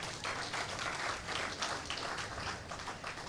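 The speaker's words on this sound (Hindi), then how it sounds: "ये ताली आप लोग हमेशा गलत चीज पे क्यों बजाते हो" An audience at a motivational talk on meditation in Mumbai applauds in a dense, steady wash of clapping that fills the whole moment without pause.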